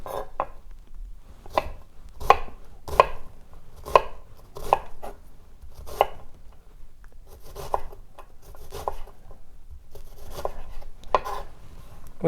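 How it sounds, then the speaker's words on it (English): Knife slicing through an onion on a chopping board, a steady series of crisp, close cuts with short pauses between strokes, heard alone. "continue slicing, working your way towards that root."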